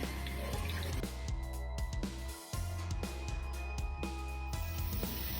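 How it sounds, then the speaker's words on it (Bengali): Powdered milk is stirred into liquid milk in a pot: a steady run of light, rhythmic liquid swishes and taps close up, with a brief pause midway and no talking. "এর ভিতরে দিয়ে দিলাম এবার পাউডার মিল্ক। ভালো করে মিশিয়ে নেব।"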